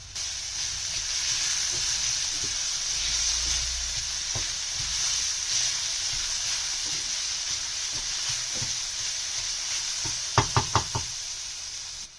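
Cumin seeds sizzle in hot oil for a Sindhi dum aloo, a steady bright frying hiss that carries through to the end, where a quick run of four close knocks sounds against the pan.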